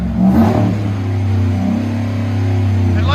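A 2011 Chevy Avalanche 5.3L V8 with a Carven TR-series exhaust and 6-inch tip holds a steady, loud, deep high-rev drone right up against the rev limiter, with a brief throttle swell near the start.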